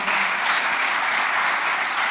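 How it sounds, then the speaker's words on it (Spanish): Steady, dense applause from a large church congregation, continuous and fairly loud throughout with no pauses. "levanten el mejor aplauso que puedan al Señor"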